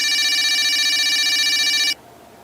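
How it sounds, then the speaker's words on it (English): A red toy tin can phone rings with a loud, rapid electronic trill that holds steady for about two seconds and then stops abruptly, leaving near silence. "Suddenly, the red tin can phone started to ring."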